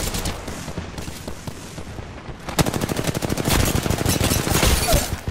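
Rapid automatic gunfire from Apex Legends ranked arenas, loud and close, with bursts of shots crackling in a fast steady rhythm that builds into sustained fire.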